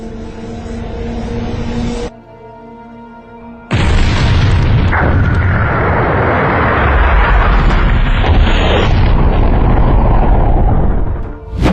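A cosmic big bang explosion effect: a brief tone is cut off, then a huge boom erupts and rolls into a long, loud, rumbling roar with crackling bursts, fading only at the very end.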